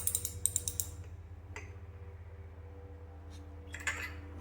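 Spark plugs being hand-tightened into an aluminum cylinder head with a torque wrench: a few quick, faint ratcheting clicks at first, then sparse light metallic ticks over a steady low hum.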